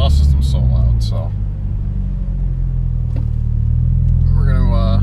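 A 2015 Mitsubishi Lancer Evolution MR fitted with an AEM cold air intake and a loud exhaust, its engine rumbling steadily as it accelerates, with a rising whine toward the end under brief talk.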